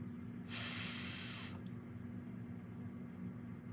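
A voice makes a steady hissing 'sss' lasting about a second, imitating the sizzle of frying food, then quiet room tone follows.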